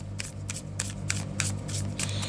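Tarot cards being given a final shuffle during a reading, a rapid series of soft papery riffles and flicks repeating about every third of a second over a low steady background hum.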